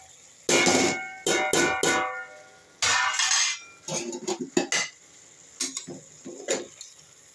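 A spoon mixes food seasoned with salt and spices in a metal vessel, making bursts of clattering scrapes and sharp clinks broken by short pauses.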